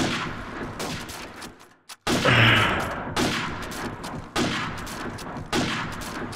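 Loud, close bursts of rapid gunfire ring out in a one-on-one video game match, with repeated volleys separated by brief gaps and no talk.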